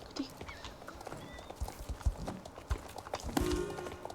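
Hooves clip-clop in an uneven rhythm as a horse moves in a video game, with faint background noise and an occasional sharper clatter.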